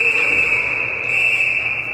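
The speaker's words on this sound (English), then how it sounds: "we've got a whistle for the face-off" A referee's whistle at an ice hockey game between Wenatchee Wilderness and Hill Academy blows one long, steady, shrill blast over arena crowd noise to stop play for a face-off.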